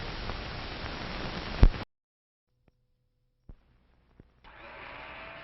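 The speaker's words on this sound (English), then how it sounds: "It's a General Electric blender that's going around." A General Electric blender whirs loudly and steadily for under two seconds, then stops dead; after a near-silent gap with a couple of faint clicks, a softer motor hum starts up again near the end.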